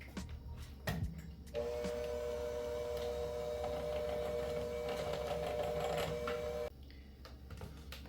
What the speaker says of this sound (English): I'm going to start whisking my heavy cream.